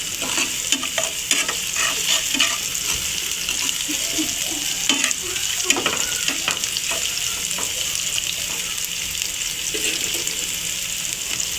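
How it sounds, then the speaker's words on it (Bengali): Sliced onions browning in oil in a pan for a chickpea dish, with a steady, close sizzle broken by repeated scrapes and clinks of a spoon stirring. "আমি এখন এই পেঁয়াজটা ব্রাউন করে ভেজে নিচ্ছি।"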